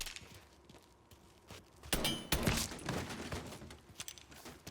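Gunfire in the video game Mafia III, a few sharp shots cracking out amid a busy in-game firefight, with scattered thuds and movement noise in between.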